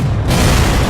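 Cannon fire from a pirate ship battle in the VR game Heroes of the Seven Seas, a loud, dense low booming rumble that fills the whole moment with no speech.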